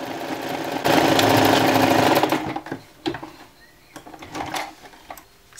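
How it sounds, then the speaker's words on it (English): Sewing machine running a zigzag stitch along baby dress fabric edges, a loud, fast, steady whir for over a second, then stopping into quieter clicks and fabric handling. "So you use the zigzag stitch or an overlocker machine."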